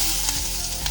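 Grated coconut hitting hot oil in a pan while cooking kappa biryani, giving a dense, steady, close sizzle that fills the whole brief moment with no voices.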